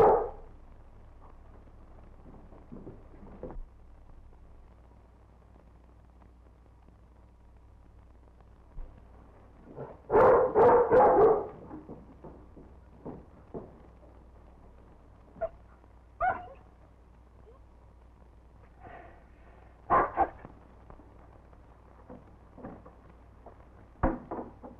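The dog Rin Tin Tin barks in a short loud burst midway, with a few fainter isolated yips and whimpers scattered before and after over a quiet background hum.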